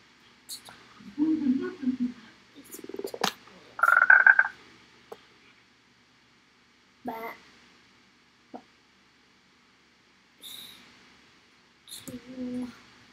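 Frogs croak in short, separate bursts, some clustered and some standing alone, with quiet gaps between calls, heard fairly close.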